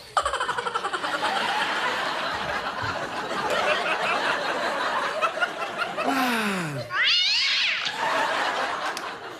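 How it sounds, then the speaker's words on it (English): A cat's drawn-out meows and yowls, loud and close, rising and falling in pitch over a dense hissing background, with two long wavering cries near the end. "this is a noise a cat makes"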